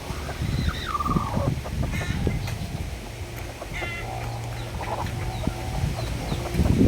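Hens cluck and murmur in a busy coop on a small backyard farm with bantams, with scattered bird calls and rustling in the background.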